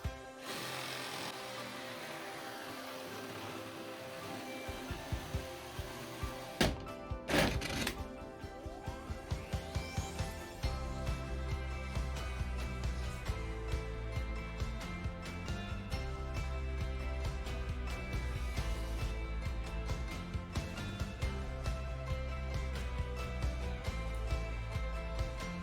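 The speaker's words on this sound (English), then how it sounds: "the inner circle can only be cut by making a hole before cutting, into which you can put the saw and from that point start cutting further" A jigsaw cuts an inner circle in a board, starting after a short pause and a few knocks, then a loud, steady buzzing saw motor with rapid blade chatter running close for most of the stretch.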